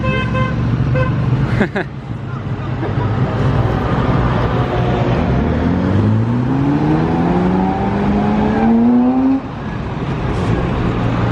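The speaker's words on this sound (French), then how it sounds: "Bon voilà, la Pagani, elle vient de démarrer." A Pagani hypercar engine fires up and revs in Monaco, its pitch climbing in rising sweeps over a busy background, with a sharp horn-like toot near the start.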